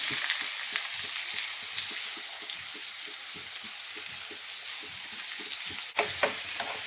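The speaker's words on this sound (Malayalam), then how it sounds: "അതേ ബട്ടറൊക്കെ നല്ലപോലെ മെൽറ്റ് ആയിട്ടുണ്ട് ഇനി നമുക്ക് സബോള ഇട്ട് കൊടുക്കാം" Onions frying in melted butter for butter chicken sizzle steadily in a pan, with a dense continuous hiss broken by regular stirring scrapes and a sharper clatter near the end, and no talking.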